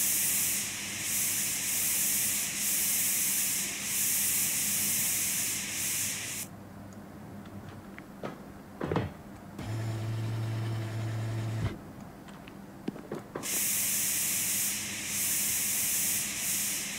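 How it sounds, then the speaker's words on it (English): Spray painting a truck door in the Diesel Brothers Truck Building Simulator video game, a steady loud hissing spray that runs for several seconds, stops for a quieter stretch with clicks and a hum, then resumes. "We'll go spray paint that real quick."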